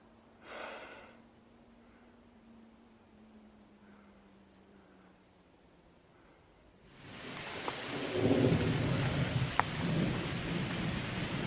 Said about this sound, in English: Well, it's raining. So my first rain of the trip, first day. It's very dark in here, cloudy. Some thunder in the background.